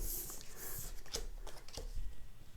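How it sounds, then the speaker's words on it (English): A deck of game cards is shuffled close by for the deck-building tabletop game Eminent Domain, giving several bursts of riffling and flicking paper with short pauses between them. "shuffle his discard pile back into a draw deck"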